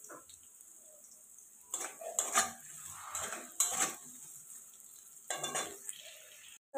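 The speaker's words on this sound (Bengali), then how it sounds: "তেলের মধ্যে আমি সয়াবিনগুলোকে ভেজে নেব" Soybean chunks fry in a pan of oil, giving a faint sizzle broken by several louder stirring and scraping bursts of a spoon against the pan.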